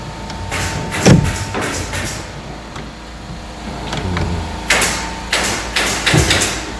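A wooden drawer is slid into a handbuilt counter for a gym shop interior, giving a few sliding rubs and soft knocks, close and moderately loud, against quiet room tone.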